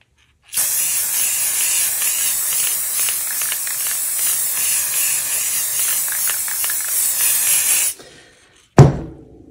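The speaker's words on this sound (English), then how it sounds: "I'm going to spray this over the whole thing" A loud, continuous aerosol spray hisses over an underwater resin and sand painting for several seconds, stops abruptly, then a brief clatter follows after a moment of silence.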